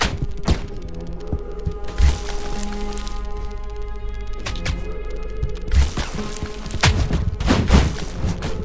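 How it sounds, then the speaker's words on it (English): Gunfire in the video game Crab Game: a few sharp, heavy shots with booming thuds spaced several seconds apart, ringing out over a steady droning game backdrop. "somebody's shooting!"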